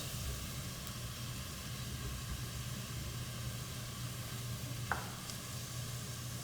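Onions and shrimp shells sizzle steadily in a pan for a simple fish stock, a soft, even hiss with a couple of brief clicks near the end and no talk.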